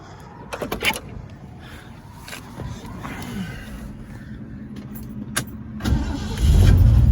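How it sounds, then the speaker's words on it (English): A 1969 Ford Mustang Mach 1 with a 351 V8 cranks with a few clicks, then catches and settles into a deep, steady idle that swells louder toward the end. "Car starts up great."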